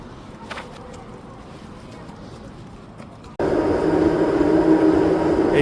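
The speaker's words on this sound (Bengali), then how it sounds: "এই ট্রামটা আমাদের বাসার সামনে দিয়ে যাবে।" A tram on a winter street in Tampere, Finland, rumbles past with a low rolling hum that jumps suddenly louder and stays close and steady for the final seconds.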